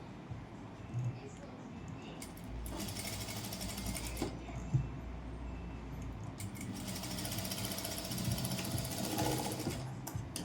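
A sewing machine stitching fabric for a Panjabi dress top, with rapid mechanical rattling bursts of several seconds between quieter pauses, close up and with talking throughout.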